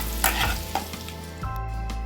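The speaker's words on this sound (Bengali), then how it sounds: "এবার পেঁয়াজ কুচিগুলো দিয়ে দেবো" Chopped onion and green chili hitting hot oil in a pan after garlic, a loud sizzling burst with stirring scrapes, a second fresh sizzle surge midway, continuing alone without talk.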